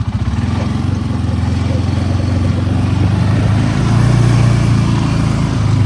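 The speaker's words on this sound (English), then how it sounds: "Gentlemen, start your engines." Engines running loudly and steadily, a rumbling motor drone that swells slightly toward the end.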